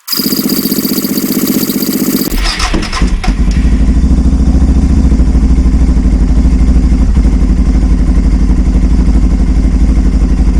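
Engine being cranked to start, a loud whirring crank for about two seconds, then sputtering catches into a steady, rough, close running clatter that continues to the end.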